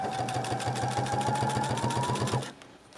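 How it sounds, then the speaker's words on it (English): A sewing machine stitches binding onto a vinyl pocket piece for a reusable face mask case, running steadily with a fast, even mechanical whir and rhythmic needle ticking for over two seconds before stopping abruptly. "And I'm going to stitch this binding onto my pocket"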